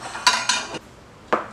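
A metal cooking pan clanks and scrapes as it's handled in a kitchen, with two quick close clatters followed by a third after a short pause, with no voices.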